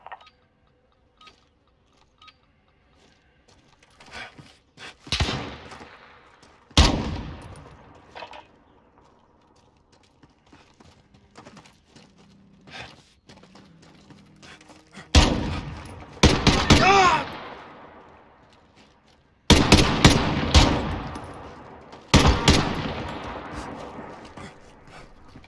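Gunfire from a speedball round in the video game Gunfight: bursts of rapid shots that grow louder and denser toward the end, with sparse clicks and a muffled voice between the volleys.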